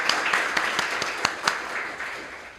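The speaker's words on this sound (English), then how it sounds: "please welcome Anqi Liu with big applause" Applause from a conference audience welcoming a speaker at a Python developer event, a steady broadband patter with a few sharper individual claps standing out, fading slightly toward the end.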